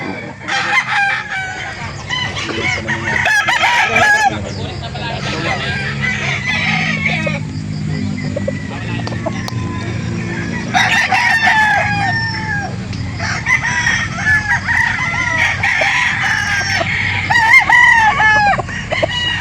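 Roosters crow repeatedly at a Calauan, Laguna chicken market, with clucking fowl and crowd murmur throughout; several loud crows ring out near and far among the bustle.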